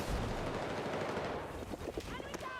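Rapid automatic gunfire from a nearby teammate in the shooter Battlefield 6, a dense burst running through the whole moment and loud up close, with a few sharp chirping game effects near the end.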